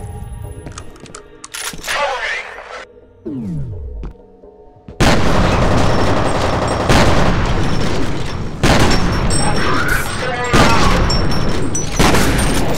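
Heavy weapon fire from the god gun in the shooter game FEAR, with deep booming blasts and a burst of gunfire that continues in loud, sustained waves and brief drops. A voice speaks faintly early on.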